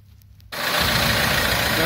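An Opel Zafira Tourer C engine starts during a front brake pad replacement. The car is quiet at first, then a steady, close engine drone sets in abruptly and holds at an even level.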